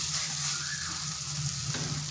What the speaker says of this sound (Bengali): মশলাটাকে বেশ ভালোভাবে কষিয়ে নিতে হবে। দেখুন কড়াই থেকে তেল ছেড়ে যাচ্ছে।